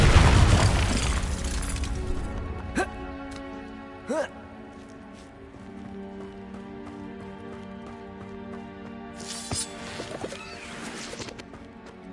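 A Confringo explosive spell in Hogwarts Legacy lands as a loud, close blast at the start. Sustained game music and ambience follow, broken by a few shorter, sharper bursts.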